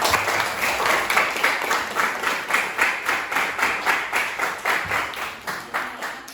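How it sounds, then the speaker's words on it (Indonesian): Classroom of students clapping for a classmate, a brisk, even run of applause that pulses rhythmically and fades toward the end, moderately loud with no voices over it. "Kita kasih aplaus untuk hari ini teman kita ya."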